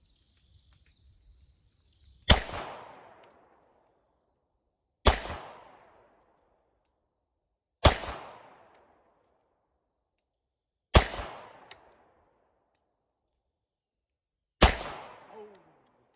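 Five single pistol shots from a Shadow Systems MR920 fired slowly at 10 yards at an outdoor range, each a sharp loud crack with a short decaying tail, spaced roughly three seconds apart, with no talking.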